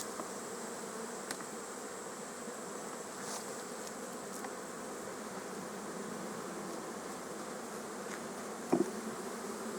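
Honeybees hum around an open beehive while brood supers are equalised, a dense, steady buzz that fills the whole stretch, with a few faint knocks and one brief sharp click near the end.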